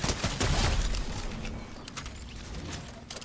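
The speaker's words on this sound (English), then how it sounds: "Yeah, that's gunshots." Repeated gunfire bursts from a video game boss-fight area, several shots crackling at moderate distance over a steady rumble of game ambience, with no talking.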